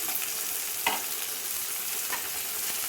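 Chopped tomatoes sauté in a pan for a drumstick-leaf chutney, giving a steady, close sizzle broken by a couple of short stirring scrapes.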